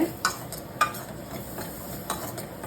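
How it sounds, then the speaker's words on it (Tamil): Carrots being sautéed in a pan for sambar, with quiet stirring scrapes and light sizzling recurring every second or so, faint and close, with no talking. "லைட்டாக வதங்கினா போதும் கேரட்டு"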